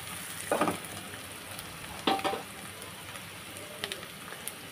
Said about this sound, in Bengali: নিয়ে পেঁয়াজ মরিচের সঙ্গে একটু কিছু সময় ভেজে নিব।